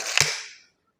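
A Kral Arms N07W spring-piston air rifle fires a single shot: one sharp, loud crack with a brief ringing, metallic tail that fades within about half a second, heard alone.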